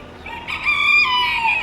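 A rooster crows once, loud and near, in a sustained call at a Kuwait animal auction holding sick, patchy-feathered chickens, with no talking.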